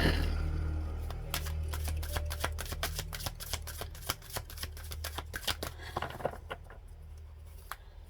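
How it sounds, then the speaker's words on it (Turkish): Tarot cards being shuffled and drawn, a quick run of crisp riffling flicks close by that thins out into a few separate card snaps, with no talking. "birkaç kart daha çekeceğim"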